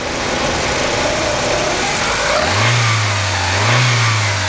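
A 1997 Ford Escort engine converted to a Mikuni carburetor runs close by, a loud steady rush that rises into a revving note partway through and holds, without any voices.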